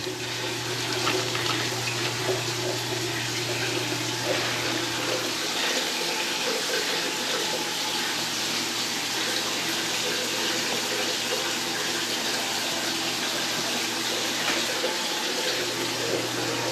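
Water drains through a newly installed toilet as a loud, steady rushing flow that runs without a break throughout, close up, with no talking over it.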